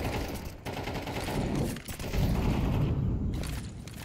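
Rapid gunfire in a competitive shooter video game match between esports teams, with dense bursts of automatic shots and thuds running almost continuously and loudly, up close.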